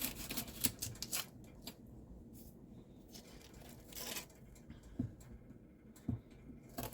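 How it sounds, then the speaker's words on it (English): A knife slicing through an onion on a cutting board while preparing homemade mushroom soup, heard as quiet, irregular chops and rubbing scrapes with a few sharper knocks, close up and without talk. "I'm going to cut my onion out."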